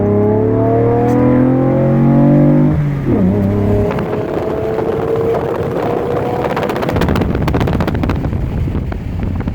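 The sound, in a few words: Chevrolet Camaro exhaust while accelerating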